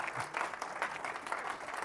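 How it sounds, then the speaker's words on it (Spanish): An audience at a medical lecture on anti-inflammatory drugs applauds steadily, a dense wash of many hands clapping at once for a couple of seconds with no voices standing out. "Un aplauso fuerte, por favor."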